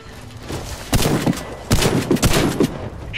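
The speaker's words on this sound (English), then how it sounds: "Shoot the target while sliding." Shotgun blasts fired while sliding in the Warface video game, several loud bursts at uneven intervals over a steady background bed of game noise, with a brief sliding whoosh around the shots.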